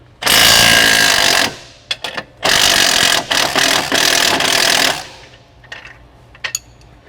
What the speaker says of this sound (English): remove the lower shock bolt with a 15 millimeter socket and an 18 millimeter